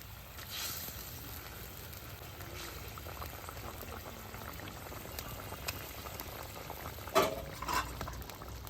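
Fried catfish pieces bubble and simmer in curry gravy on a wood-fired stove, a steady close boiling burble with occasional louder pops and splashes.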